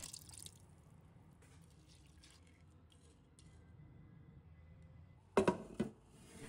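Shiitake soaking water poured into a rice cooker holding rice, shiitake, squid and shrimp: a quiet room, then a short, close burst of splashing pour lasting under a second near the end.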